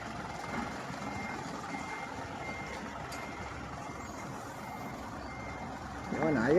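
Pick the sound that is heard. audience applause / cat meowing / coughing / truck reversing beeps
truck reversing beeps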